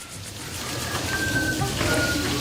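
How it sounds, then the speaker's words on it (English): Steady rain falling in Nome, Alaska, a broad outdoor hiss of drops that grows slightly louder over a few seconds, alone with no talking. "Do you hear the rain?"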